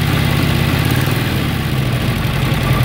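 A 1930 Harley-Davidson flathead motorcycle engine idles steadily and close by, a continuous low mechanical rumble with an even rapid beat and no other sounds over it.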